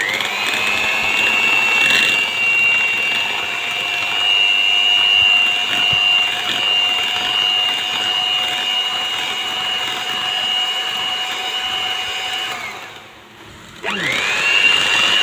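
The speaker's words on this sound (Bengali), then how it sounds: "এবার আমি এটাকে স্লোতে বিট করে নেব বিটার দিয়ে" An electric hand beater runs steadily on a low speed, whipping chilled cream skimmed from cow's milk for homemade ghee, a continuous whirring hum that pauses briefly near the end, then starts again.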